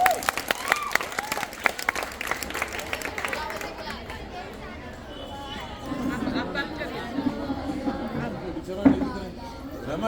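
Students clapping for their Telugu teacher at a government high school annual day, a burst of applause mixed with crowd chatter and voices, settling into a murmur of talk with scattered claps.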